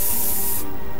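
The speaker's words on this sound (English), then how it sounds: "Junior, get spray or something!" A spray can hisses in one bright, steady burst lasting about half a second before cutting off abruptly, leaving only faint background noise afterward.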